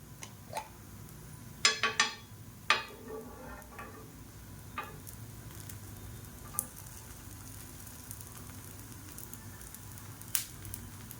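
Spicy kara adai frying in ghee on a pan over a medium flame, a soft continuous sizzle with a few sharp crackles and pops, close and alone.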